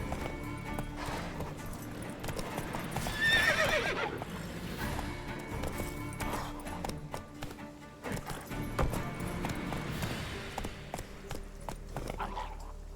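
Roach, the horse in The Witcher 3 video game, galloping with a steady clip-clop of hooves and a loud whinny partway through, all over a continuous game soundscape.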